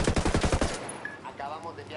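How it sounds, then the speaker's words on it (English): A rapid burst of automatic gunfire in a video game rattles off for under a second, then fades into a noisy, reverberant aftermath. "Shots fired"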